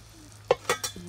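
Curry jackfruit and salt fish being stirred in a pot at an outdoor cooking fire, with three short scraping, sizzling strokes over a low steady background hum.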